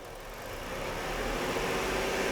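A car engine with coil-on-plug ignition revs under test, a steady close mechanical drone that swells gradually louder over a couple of seconds.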